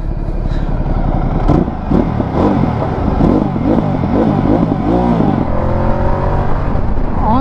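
A Ducati Multistrada 1260 engine revs loud and close, climbing through throttle blips with a rising whine near the end and no talk.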